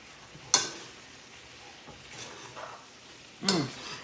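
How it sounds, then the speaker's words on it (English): Two sharp clinks and a few soft wet scrapes come from a spoon tossing Italian tuna pasta in sauce in a pan, with quiet stretches between them and no voice. "And then just gently toss this in the sauce, turn it over."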